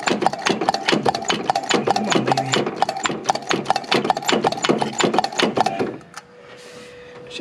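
An electric fuel pump feeds the carburetor on a 1977 Chevy C10 with an LS swap, ticking in a fast, steady rhythm for about six seconds before it stops and leaves a faint hum.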